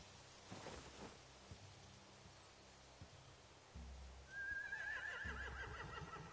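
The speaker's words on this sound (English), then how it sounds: "They have horses." A horse whinnies in The Walking Dead Definitive Edition video game, a rising, wavering call partway through, over a quiet backdrop of soft rain-like hiss and low thumps.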